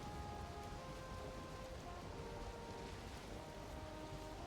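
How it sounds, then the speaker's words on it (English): Steady rain pours down during a storm in the survival game HellHeim, a dense continuous hiss with a few faint tonal lines from game music, heard alone without talk; no distinct thunder crack stands out. "Of course, it's gonna storm."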